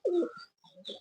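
Pakistani high-flyer pigeons, a mated pair, cooing nearby in a short soft burst of throaty coos followed by a quieter second call.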